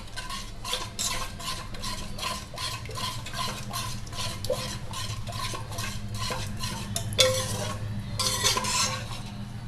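Fish curry ingredients being stirred and mixed in a pan in a village-style Andhra kitchen, with repeated scraping strokes of a utensil, steady and close, over a low cooking hum; no talking.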